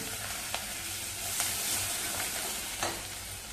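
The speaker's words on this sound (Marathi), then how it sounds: "हिंग पण त्याच्यातच घालूया आणि चांगलं एकदा हा मसाला परतवून घ्यायचा आहे." Masala with asafoetida sautéing over low heat in a pan for medu vada: a loud, continuous close sizzle with a few light spoon clicks as it is stirred, no voices.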